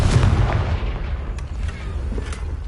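A Confringo blasting spell in Hogwarts Legacy goes off as a loud, rumbling burst, followed by a dense booming decay that fills the short moment.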